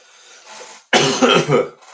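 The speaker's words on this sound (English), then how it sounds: "Coughing right into the mic." A breathy throat sound leads into a harsh, loud cough right up close, with two or three bursts blasting the mic.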